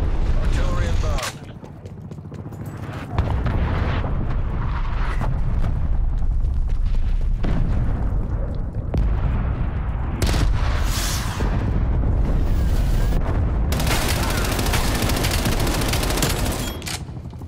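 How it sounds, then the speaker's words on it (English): Artillery strike in the multiplayer video game Call of Duty: Black Ops Cold War, a long barrage of heavy booming explosions mixed with rapid gunfire, near and loud, with brief game voice callouts over the din. "Artillery inbound."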